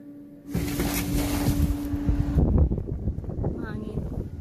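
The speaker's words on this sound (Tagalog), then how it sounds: "Grabing hangin." Strong wind roars and buffets the microphone during a snowstorm, a loud steady rush that starts abruptly and persists with gusty surges.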